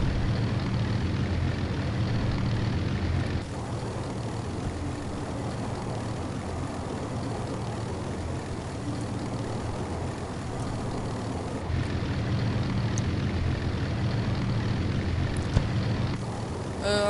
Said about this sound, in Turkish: Bunlar bildiğimiz su uçağı.